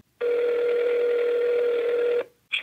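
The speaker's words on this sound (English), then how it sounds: "I must have dialed the wrong number" Telephone keypad dialing sounds from a phone: one long, steady tone held for about two seconds, then a short gap and a brief second beep, clear and close.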